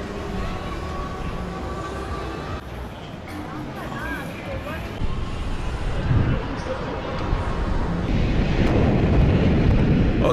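Strong wind buffets the microphone high up on a 117 m swing ride above Vienna, a loud continuous rumbling roar that swells toward the end, with a voice faintly audible beneath it.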